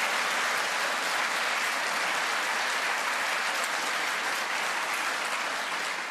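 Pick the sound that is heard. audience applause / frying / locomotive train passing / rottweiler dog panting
audience applause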